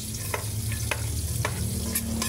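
Garlic sautéing in a pan for salted pasta, a steady broadband sizzle with a few sharp clicks of stirring scattered through, close and continuous with no talking.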